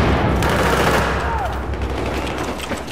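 Sustained machine gun fire in the shooter game Battlefield 4, rapid close bursts rattling loudly and continuously for a few seconds during a 5v5 competitive match.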